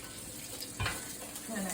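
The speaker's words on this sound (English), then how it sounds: "That sizzle sounds nice." Vegetables sizzle in hot sesame oil in a pan on a stovetop, a steady close crackling hiss with a brief louder burst as food is stirred or added.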